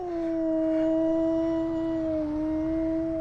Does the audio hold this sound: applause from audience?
no